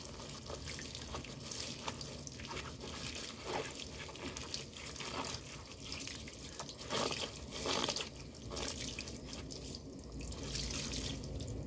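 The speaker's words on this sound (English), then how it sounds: "rinse the brush or sponge." A scrub brush or sponge is rinsed under a running tap, steady splashing water with irregular sloshes and surges, close and fairly loud, with no voices.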